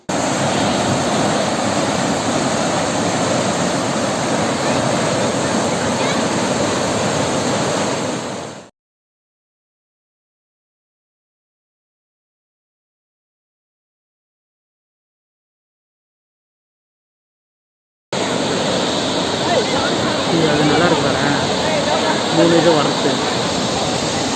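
Water pours over a village dam in a continuous loud roar with a broad rush like a waterfall, broken by a long stretch of complete silence in the middle.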